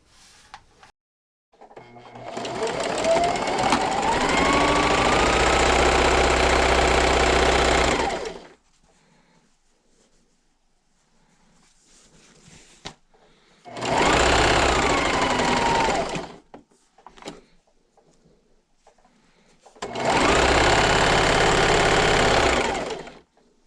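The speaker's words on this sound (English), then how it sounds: "this is the second side that I'm sewing, and I'm coming up to my edge" A sewing machine stitches the edge of a cloth napkin in three bursts, one long run of about six seconds then two shorter runs, with quiet pauses between them and a steady motor whir throughout.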